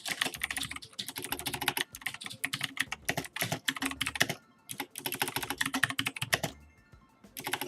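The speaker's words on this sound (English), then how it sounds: "My typing is deteriorating." Fast, continuous typing on a computer keyboard sounds close and crisp as dense clattering keystrokes in bursts, broken by a couple of brief pauses, with no voices.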